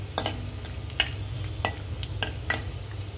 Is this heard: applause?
no